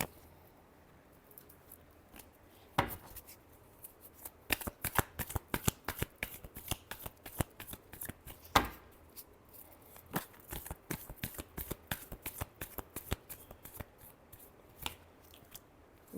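Tarot cards riffled and shuffled by hand in a long run of crisp, rapid flutters and snaps, with short pauses between bursts, close up and alone with no talking.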